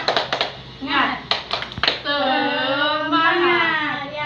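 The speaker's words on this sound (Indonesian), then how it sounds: "kita tepuk semangat dulu ya" Schoolchildren in a classroom perform a rhythmic clapping cheer, a few sharp claps at the start followed by children's voices chanting together in a sustained, sing-song unison.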